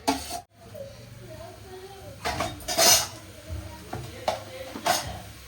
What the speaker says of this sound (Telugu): మటన్ కుక్కర్లో వేసి